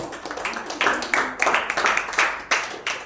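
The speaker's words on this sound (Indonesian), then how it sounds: "Kita berikan aplaus" Classroom applause after a group presentation, brisk clapping from a group of students close by, with several bursts swelling and continuing steadily throughout.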